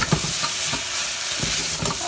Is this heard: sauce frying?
yes